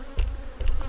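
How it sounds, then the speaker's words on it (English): Honey bees buzz around a nuc box, filling the air with a close, continuous hum and brief louder swells as individual bees pass near. "There's a lot of bees flying around"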